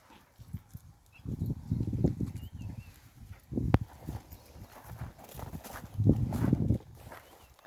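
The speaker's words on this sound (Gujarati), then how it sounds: "આપણે ઢોર ચારવાનું કામ ચાલુ છે અત્યારે" Cattle hooves clop on the ground in irregular bursts as the herd ambles while grazing in a field of standing sorghum, with quiet pauses between the steps.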